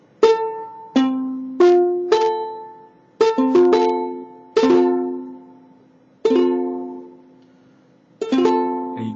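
A chord strummed again and again on a soprano ukulele, eight or nine bright, ringing strums with uneven gaps, each decaying before the next, played close and alone.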